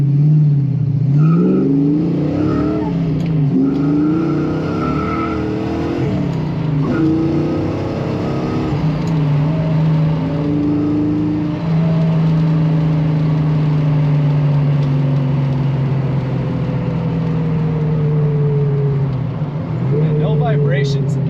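Slammed Foxbody Mustang 5.0 on big wheels and low-profile tires accelerating hard, the engine note climbing, dropping at a shift into second gear and climbing again, loud from inside the car, with a voice talking over it.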